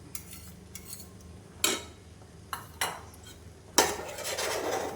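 A spoon stirs thick urad dal batter in a metal pot, with bursts of scraping and knocks against the sides separated by quiet gaps, then a longer, louder stretch of stirring.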